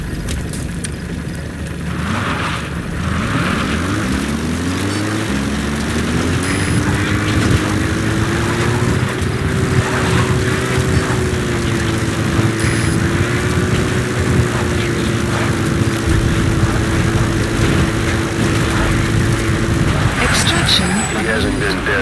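Support helicopter in Metal Gear Solid V: The Phantom Pain arriving at a landing zone, a loud steady rotor and engine drone with rising pitch that holds throughout, with radio voice and game sounds over it.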